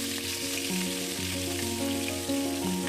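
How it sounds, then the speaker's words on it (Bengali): Catla fish pieces sizzle softly in oil, a steady frying hiss heard under background music. "মাছগুলো কিন্তু খুব সুন্দর করে ভেজে নিচ্ছি দেখো"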